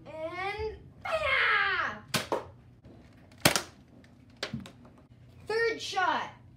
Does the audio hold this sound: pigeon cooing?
no